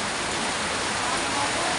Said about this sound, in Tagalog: O yan, inabot na kami ng ulan.